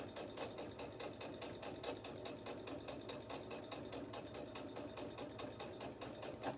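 A home sewing machine runs continuously at a steady, even pace, with a fine rhythmic mechanical clatter that stays close and moderately quiet throughout.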